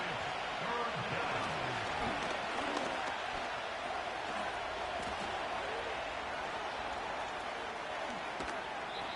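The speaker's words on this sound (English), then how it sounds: "The crowd making their presence felt." Stadium crowd noise from a Madden NFL 25 football video game, a steady broad roar of spectators that holds for the whole stretch, with a commentator's voice faintly over it.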